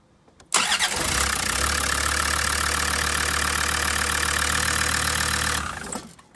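A Land Rover Discovery 2 with the TD5 diesel engine turns over briefly and fires, then settles into a steady, loud idle heard up close with no talking, cutting off abruptly near the end.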